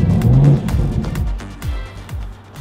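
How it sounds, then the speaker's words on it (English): A car engine revs loudly nearby, rising then falling in pitch, followed by a few shorter throttle blips as it settles. "Listen to this engine."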